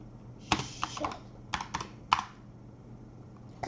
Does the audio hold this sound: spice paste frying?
no